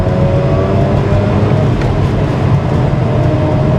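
A 2004 Mazda RX8 with a six-speed manual runs steadily while driving, giving a continuous close engine drone with road rumble and no clear revving changes.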